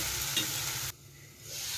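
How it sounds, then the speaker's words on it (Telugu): Small chopped onion pieces frying in a hot pan as they are stirred, a steady close sizzle with scraping stirs that drops off briefly mid-way before the sizzle returns. "కట్ చేస్తూ పెట్టుకున్న చిన్న ఆనియన్ ముక్కలు వేసేసుకున్నాం"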